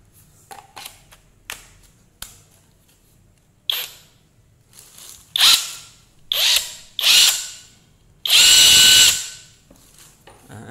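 Modern M-65 impact wrench running in a series of short, sharp whirring bursts that grow louder and longer, ending in one sustained full-power run, close by with no talking.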